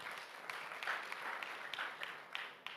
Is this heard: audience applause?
yes